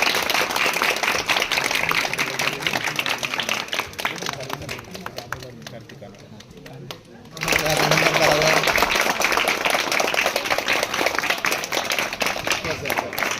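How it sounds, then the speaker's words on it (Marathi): An audience at a school Mahashivratri cultural program breaks into dense, sustained clapping that briefly thins midway and then surges loud again, with voices mixed in. "सर्वांनी टाळ्या वाजवून त्यांचं अभिनंदन करावं"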